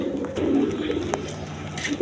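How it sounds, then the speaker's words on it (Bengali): A pair of Sirajee pigeons, male and female, coo nearby in a low throaty roll that swells and fades over a couple of seconds, with a few faint clicks around it. "এখানে এক পেয়ার সিরাজি কবুতর আছে"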